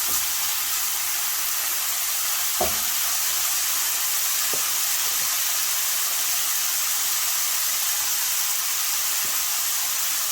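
Chicken pieces cook in a pan over a medium-low gas flame, giving a steady, even frying sizzle broken by a few faint clicks and taps. It sounds close, with no talking.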